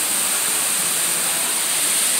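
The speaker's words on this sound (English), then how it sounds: "Not to mention the beautiful waterfall." A steady, loud rush of falling water from an indoor waterfall inside a Bass Pro Shops store fills the air, a constant hiss without pause.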